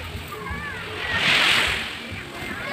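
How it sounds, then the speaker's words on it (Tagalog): Sea waves wash ashore at a beach in Luna, La Union, a steady watery slosh that swells into a louder surging rush midway, with faint voices nearby. "Andito na po kami sa dagat."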